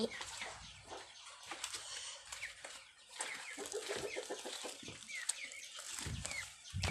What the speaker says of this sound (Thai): นี่นะคะลังไก่